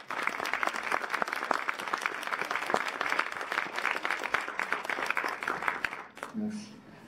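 An audience at a short-film competition event in Mouscron claps steadily for about six seconds, then the applause trails off as a voice begins.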